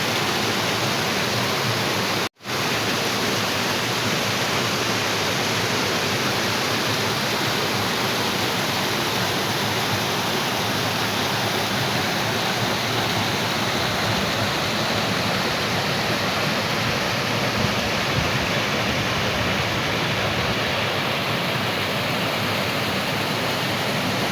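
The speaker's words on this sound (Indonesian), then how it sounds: "Mata airnya." Spring water rushing through an underground cave stream at Kali Suci in Gunung Kidul, a steady dense broadband roar like a waterfall, close and continuous throughout with one brief dropout near the start.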